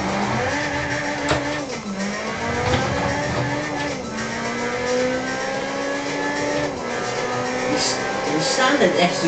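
An Amuse-tuned Honda S2000 with carbon fiber body parts revs hard toward 9,000 rpm, its engine note rising and falling through gears in a steady loud wail, with a tire squeal near the end.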